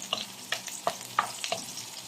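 Garlic and onion sauté in a hot pan while being stirred, a soft continuous sizzle broken by several sharp scraping clicks of the utensil against the pan, close and moderately quiet.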